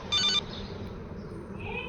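A phone rings in the video game GTA Liberty City Stories, a short burst of electronic ringing at moderate volume over a low game background hum.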